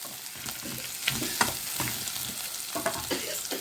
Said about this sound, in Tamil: பச்சை மிளகா போட்டு நல்லா கிளறி விடுங்க ஃப்ரெண்ட்ஸ்